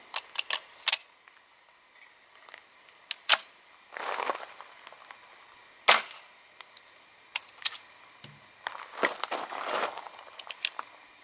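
A squib-load gunshot cycles a firearm's action with a bullet lodged in the barrel: a few sharp, faint metallic pops and clacks scattered through quiet, with brief rattling handling noises between them and no talking.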